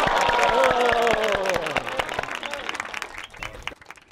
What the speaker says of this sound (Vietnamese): bà con cho một đàn vỗ tay để mừng các cháu đi nào